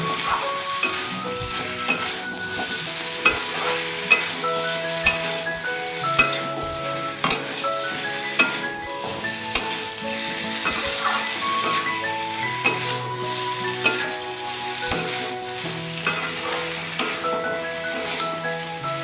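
Pointed gourd curry with fried eggs is sautéed and stirred in a pan, a soft continuous sizzle broken by repeated light scrapes and taps of a spatula, close and steady with no talk.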